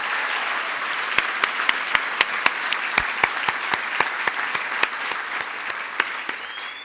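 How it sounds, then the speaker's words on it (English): An audience at an awards lunch applauds, a sustained wash of clapping with distinct crisp claps popping out at a fairly regular pace, continuing evenly throughout. "if we could just get one more round of applause for Equal Voice"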